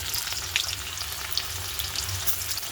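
Onions sizzling and frying in a pan on a home stove, a steady dense crackle with small pops, close and moderately loud, with no voices over it.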